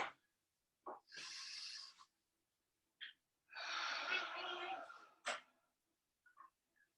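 Slow deep breaths in a yoga table pose, a few drawn-out inhales and exhales close to the microphone, separated by short sniffs and quiet pauses.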